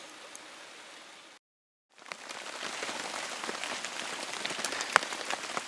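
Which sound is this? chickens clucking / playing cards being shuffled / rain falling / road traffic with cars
rain falling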